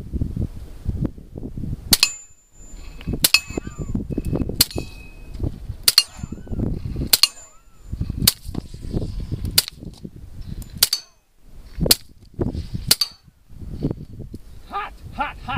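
A string of suppressed gunshots rings out, sharp loud cracks spaced about a second apart with some irregular gaps, as part of an 87-round string, with speech-like noise between shots.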